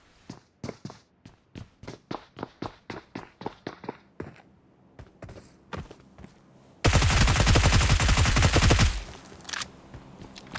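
Close-quarters gunfire duel between a P90 and a UMP in the mobile shooter BGMI: a long run of sharp, rhythmic single and burst shots, then a dense, loud sustained automatic volley for about two seconds before it cuts off.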